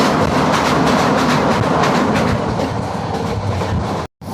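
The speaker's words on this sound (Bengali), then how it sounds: "ট্রেন মনে হয় এখন থামবে" A passenger train bound for Cox's Bazar runs along the rails with a loud, steady rumble and rolling clatter of wheels from inside the carriage, cutting off abruptly near the end.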